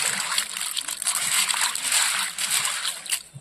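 Water sloshes and splashes in a bucket as fish are rinsed clean by hand, a steady close-up wet churning with repeated splatters and no talking, at a Konkan coastal home.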